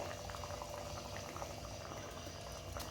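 Sesame-coated corn cutlets bubble in hot oil, making a continuous, dense, fairly quiet crackling bubble with no pauses.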